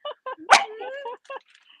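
A dog lets out a short series of barks, yips and whimpering whines, close and clear against a quiet background, with brief pauses between the vocalizations.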